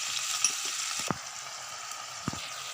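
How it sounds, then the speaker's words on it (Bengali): Spices frying in hot oil for a vegetarian dhokar dalna, a steady sizzle with a few soft scraping stirs of a spatula in the pan. "এবারে ভালোভাবে আমি কষিয়ে নেব।"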